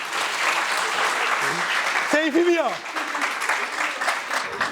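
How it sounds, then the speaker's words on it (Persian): A classroom of students applauds a classmate after a lie detector test, dense continuous clapping from many hands, close and loud, with a voice briefly speaking over it midway. "آقا یه تشویقش کنید."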